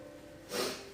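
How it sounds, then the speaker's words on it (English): A single short, breathy sniff through the nose, close and fairly quiet, with a steady faint hum in the background. "So I do apologize for sniffling."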